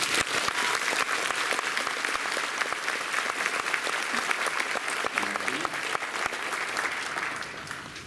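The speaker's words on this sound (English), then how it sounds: "Let's have a round of applause for Michael." Fan convention crowd at a Q&A session breaks into a long, loud round of applause, dense clapping holding steady for several seconds before easing slightly at the end.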